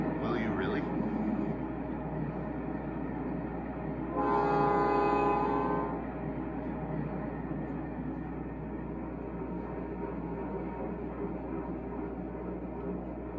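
G scale Railpro trailing car sound system playing a train horn, a single sustained blast of about two seconds over a steady low engine hum from the model railway boxcar, heard outdoors.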